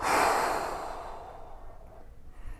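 A deep breath out during a golf fitness stretch at home, a close, strong airy exhale that starts loud and fades slowly over a couple of seconds into quiet room noise.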